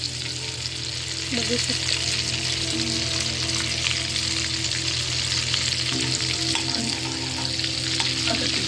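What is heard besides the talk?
Amul butter sizzling in hot oil in a pan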